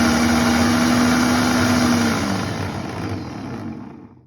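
A Philips HR3770 blender runs in manual mode with a steady, loud motor whir that slowly winds down and fades toward the end.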